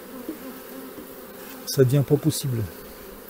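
Honeybees buzz steadily around an opened nucleus hive being merged for wintering; a person speaks briefly in French and sharp handling knocks follow.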